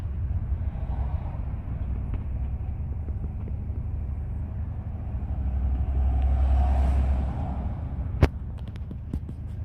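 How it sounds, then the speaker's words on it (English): Steady road traffic on the motorway heading to a farmers' protest in London: a continuous low rumble and hum of passing cars, swelling briefly before a sharp knock near the end, with no talk. "I'm trying to just have a look at the traffic."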